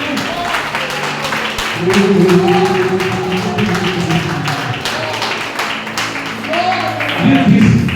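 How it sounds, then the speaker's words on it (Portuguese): Congregation clapping during church worship, a rhythmic run of sharp hand claps repeating steadily under loud singing and a preacher's voice that carries over the top. "Aplauda Jesus, aplauda o Espírito de Deus."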